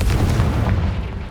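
Confringo blasting spell in Hogwarts Legacy, a loud, dense, rumbling explosion that fills the whole moment and fades slightly toward the end.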